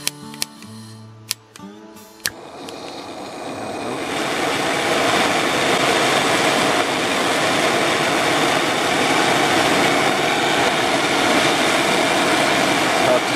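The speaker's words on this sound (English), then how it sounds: "turning the gas on at the nozzle here" An LPG propane Bullfinch torch for brazing is opened slowly at the nozzle, a few clicks and taps giving way to a steady, loud broadband roar that builds over several seconds and then holds at full burn.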